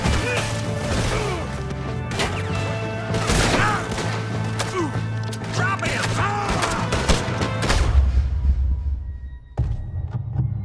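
Gunfire from a tower during a Red Dead Redemption 2 shootout, with dense, continuous cracks and booms layered over music and clatter, loud and relentless before thinning out near the end.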